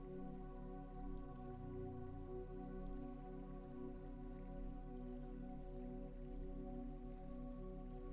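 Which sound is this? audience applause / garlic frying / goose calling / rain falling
rain falling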